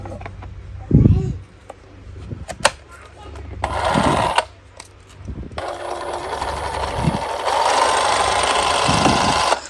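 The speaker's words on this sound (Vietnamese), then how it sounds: "Cưa kiếm thao tác nè" A cordless Milwaukee reciprocating saw with a Diablo blade buzzes in several bursts, rattling harshly between pauses, with someone speaking in between.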